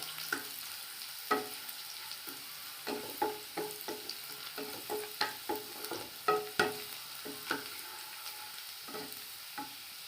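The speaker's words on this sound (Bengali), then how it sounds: "পেঁয়াজগুলো লাল করে ভেজে নেবো" Chopped onions fry in a pan for egg korma, a soft continuous sizzle broken by sharp, irregular clicks and scrapes of stirring, close and fairly quiet.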